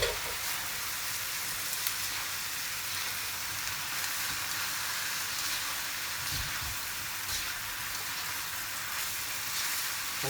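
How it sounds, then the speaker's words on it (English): Green peas fry in a hot pan for chicken fried rice, giving a steady, close sizzle that runs without a break and with no voices. "we're just gonna put in the green peas now"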